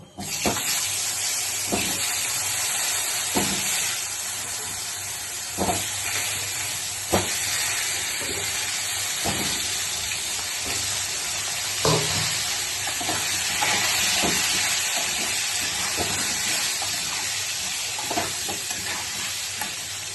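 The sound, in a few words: potatoes frying in oil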